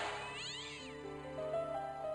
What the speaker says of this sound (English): Oh, really loud cat.